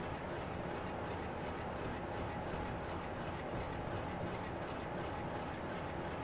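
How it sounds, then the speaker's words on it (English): Train running on rails in a train simulator game on the Bristol to Exeter line hauling Fawley tanks, a constant dense rumble with faint rhythmic clatter of wheels, steady and unbroken, no voices. "So I'm going to take this train as far to the front of the section as I can."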